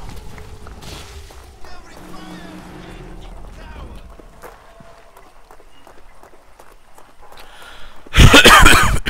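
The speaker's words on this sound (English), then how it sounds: "God, cough." A single loud, harsh cough bursts out near the end of a stretch of quiet, low background sound from the video game Crysis.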